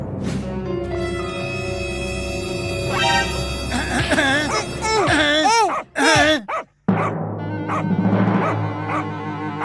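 A cartoon puppy yips and barks in a run of high, wavering, whimpering calls that grow louder, cut out briefly, then return as a softer whine.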